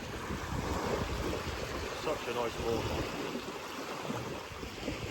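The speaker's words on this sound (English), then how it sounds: "You can see where those waves break over it." Waves wash steadily onto the Bristol Channel shore, a continuous surf rush under wind noise, with a voice speaking briefly over it.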